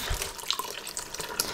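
Water from an aquarium canister filter outlet keeps running after the filter is switched off, a steady close splashing trickle like a tap that fills the short stretch on its own without pause.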